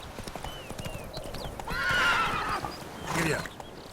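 Galloping hooves and two loud horse whinnies from The Witcher 3 video game, with steady clip-clop running throughout and the neighs rising near the middle and the end.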